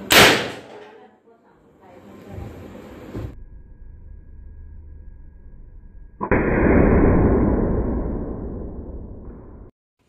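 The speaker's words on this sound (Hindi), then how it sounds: "अभी आपने देखा कि जो हमने गन बनाई थी वो अच्छी तरीके से काम कर रही है, और इसकी बॉडी अभी लकड़ी की बनी है" A homemade gun with a wooden body is test-fired, giving one sharp, loud crack at the start. Hissing, rushing bursts follow, and voices can be heard around the shot.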